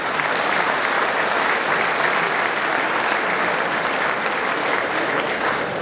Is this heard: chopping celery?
no